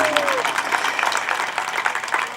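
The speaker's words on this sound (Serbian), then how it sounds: "Ne molim jedan golem aplauz za našego Fahrudina Jusufija." A crowd at a diaspora gathering applauds for a man being honored, dense steady clapping throughout, with a brief voice at the start.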